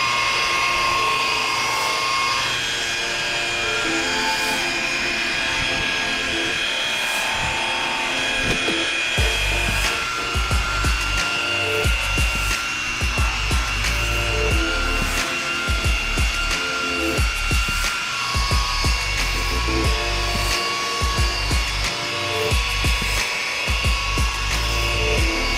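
A machine polisher whines and buffs as it works compound into the paint of a junkyard-rescued Honda CRX, a steady high drone with a low rumbling that swells and dips as the pad moves, close and with no voices.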